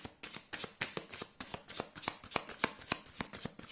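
Tarot cards being shuffled and handled at close range, a rapid run of crisp riffling flicks and soft slaps repeating steadily, with no talking.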